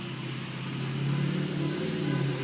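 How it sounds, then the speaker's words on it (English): A truck passing outside gives a low, steady rumble that swells slightly and then holds, heard faintly at a distance with no voices over it. "If that truck turns this way, nobody's gonna hear a word."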